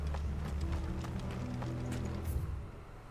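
Horses gallop in Final Fantasy XVI, a rapid run of hoof beats under a steady low game soundtrack, fairly loud and continuous throughout.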